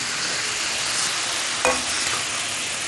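Sausage drops into a hot pan of vegetables, setting off a steady bright sizzle with a brief clatter as it lands, heard up close with no talking.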